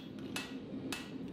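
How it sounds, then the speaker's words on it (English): Hand hammer forging mosaic Damascus steel for a cleaver blade, two sharp hammer strikes spaced about half a second apart over a steady low forge roar, no talk. "took it to a hand hammer, and re-closed those forge welds"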